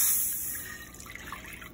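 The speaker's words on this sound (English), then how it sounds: "I'm gonna do the water in first." Two cups of water pour into an unwashed pan ahead of a gumbo roux, a brief splashing stream that tapers off into softer trickles and drips close by.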